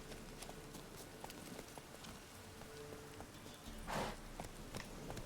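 Horse hooves clip-clop at a steady walking pace in the video game The Witcher 3: Wild Hunt, fairly quiet, with a brief louder rustle near the end.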